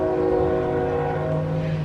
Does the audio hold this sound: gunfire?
no